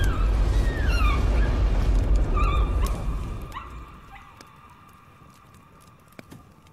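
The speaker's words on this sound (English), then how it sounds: "Ah, shut up, you daft dog." A dog in the horror video game Layers of Fear barks and yelps several times, close and loud at first, then the sound fades to near quiet with a few faint clicks.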